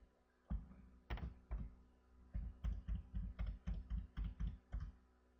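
Keys clack on a computer keyboard as a password is typed, a few spaced presses and then a quick even run of about a dozen close, soft taps.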